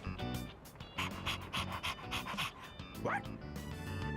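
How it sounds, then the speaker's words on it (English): A dog in the video game Persona 3 Reload pants rapidly and rhythmically, close and loud, with a brief whimpering whine near the end. "He doesn't bite, does he? I'm actually a little afraid of dogs."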